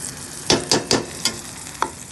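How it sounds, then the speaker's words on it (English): Onions, peppers and scallions frying for birria tacos, with a soft sizzle beneath five sharp, close scraping or tapping strokes spaced unevenly across a couple of seconds. "Now I'm about to add a little bit of onions and peppers."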